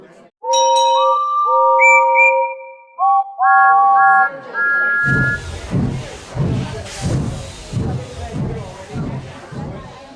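A steam whistle blows in several sustained tonal blasts, changing pitch, then gives way to the rhythmic chuffing of a steam engine pulling away.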